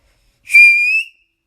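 A person whistles a single short, clear note, loud and close, in an otherwise quiet moment.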